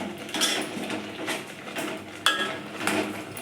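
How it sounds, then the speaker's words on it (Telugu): Metal spoon scraping and clinking in a cooking pan while stirring tomatoes for tomato charu, several distinct scrapes in an uneven rhythm, close and fairly quiet, with a sharp clank partway through. "మధ్య మధ్యలో ఇలా కలుపుతూ ఉండాలండి."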